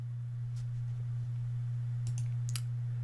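A computer mouse clicking through a software setup dialog: a single light click, then a quick cluster of two or three more near the end, crisp and close over a steady low electrical hum.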